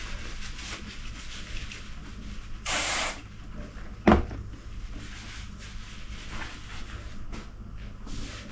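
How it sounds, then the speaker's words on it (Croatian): A short burst of aerosol spray onto a shaft seal being seated in an electric scooter motor housing, a brief close hiss lasting under a second amid quiet workshop handling and a sharp metallic knock. "A neka ćemo isto malo sprejati da lakše sjedne"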